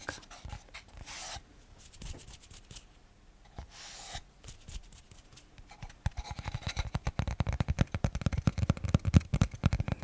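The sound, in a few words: tapping on a wooden postcard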